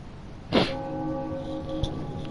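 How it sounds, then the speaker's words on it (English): A single sinister bell strike in Bloodborne rings out sharply and then hangs in a sustained, humming decay, fairly close and alone. "very sinister sounding bell there"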